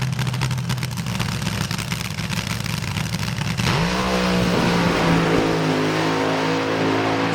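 An AA/fuel front-engine dragster at a nostalgia drag race launches down the strip: a harsh, loud engine roar that suddenly drops and then rises in pitch as the car pulls away, alone with no voices.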